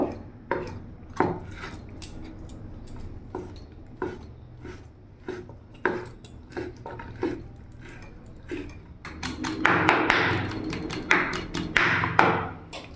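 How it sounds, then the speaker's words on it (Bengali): Chicken being minced into small pieces with a knife for chicken pasta, heard as a steady run of sharp, close knocks on a board that grows busier and denser toward the end. "এইভাবে ছোট ছোট করে কিমা করে নেব।"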